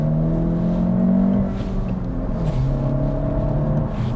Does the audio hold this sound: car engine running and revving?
yes